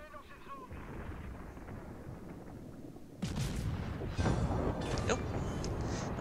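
Heavy naval gun salvos boom and rumble in a warship battle game, a low roaring wash of cannon fire swelling into sharper blasts and explosions in the second half, with a voice talking faintly beneath.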